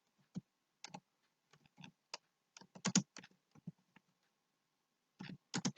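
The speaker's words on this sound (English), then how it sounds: "let me type it here." Quiet, close computer keyboard typing in irregular bursts of clicking keystrokes, with short pauses between words.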